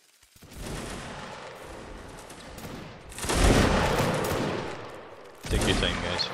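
Musket gunfire in a Napoleonic Wars line battle video game, heard as ragged volleys of many overlapping shots. A first burst crackles, a heavier volley booms in the middle, and another sharp salvo lands near the end, all close and loud.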